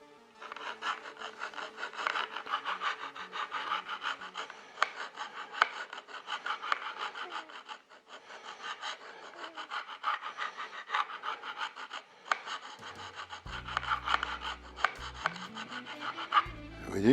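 Steady rasping of a fret kisser file worked back and forth over metal guitar frets, continuous scraping strokes close up, with a brief low mechanical thump near the end.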